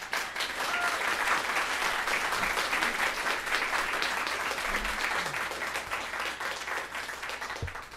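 An audience claps at a city council meeting: dense, loud, continuous applause from a crowd that holds steady for several seconds, with a few faint voices mixed in.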